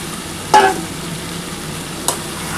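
Soybean chunks sautéed together with papaya and potato in a pan, a faint steady sizzle broken by two short scraping stirs, one near the start and one later, with no talk.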